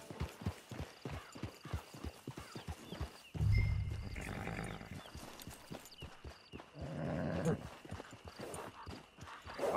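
Steady horse hooves clip-clop at a walking pace throughout in the video game Red Dead Redemption 2 Online, with a deep snorting rumble and voices breaking in partway through.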